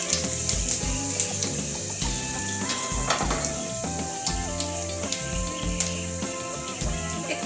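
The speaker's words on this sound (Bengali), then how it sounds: "শুকনো লঙ্কাটা দিয়ে দিলাম, তারপর পাঁচফোড়নটা দিয়ে দিলাম" Dried red chillies and panch phoron spices sizzle and crackle in hot oil for a mango chutney, a steady bright frying hiss with occasional stirring clinks, with no talking.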